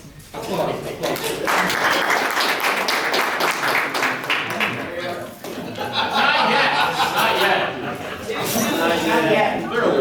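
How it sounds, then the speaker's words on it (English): Applause at a Toastmasters club meeting, a roomful of people clapping in a loud, steady patter that rises and falls in waves, mixed with chuckles and voices talking over it. "Applause."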